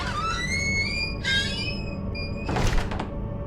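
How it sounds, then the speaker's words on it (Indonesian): Creaking door forced shut as a sound effect, with long rising and falling squeals followed by a heavy thunk of the slam. "bunyi reot pintu yang ditutup secara paksa."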